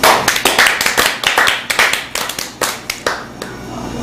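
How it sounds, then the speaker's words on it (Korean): A small group claps hands together in an indoor practice room, a burst of sharp, fairly loud claps in quick uneven rhythm for about four seconds, with no talking over it. "박수."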